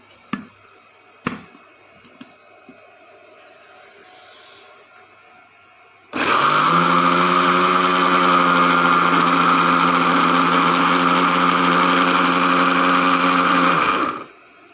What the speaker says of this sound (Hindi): थोड़ा सा ग्राइंड कर लूँगी पहले इसको।